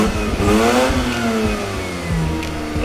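A Mazda RX8 rotary engine revs steadily upward toward about 6500 rpm, loud and close, its pitch climbing in a smooth whine before easing slightly and rising again.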